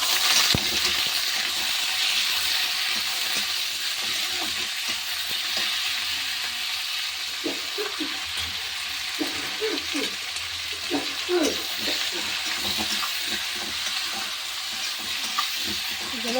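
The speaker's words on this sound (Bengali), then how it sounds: "এখন একটু ভেজে নেব" Poultry skin sizzles and crackles in a hot wok and is stirred, producing a dense, continuous frying hiss with intermittent metallic scraping and clinks close by.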